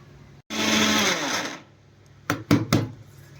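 A mixer grinder whirs loudly for about a second while grinding drumstick leaves and flax seed powder, then winds down, followed by a few short bursts from the jar.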